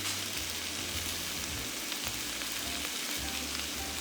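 Beef laid in a single layer in a hot pan for stir-fry fries undisturbed, producing a steady close sizzle with soft crackles and a low hum underneath, no speech.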